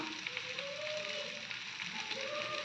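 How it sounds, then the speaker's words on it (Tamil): Kuzhambu, a South Indian tamarind curry, bubbles and simmers in a pot, a soft continuous sizzling hiss with faint tonal wavers and light stirring-like texture, fairly quiet throughout. "குழம்பு நல்லா கொதி வந்துருச்சு."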